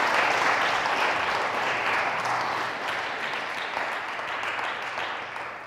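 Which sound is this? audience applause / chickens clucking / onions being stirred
audience applause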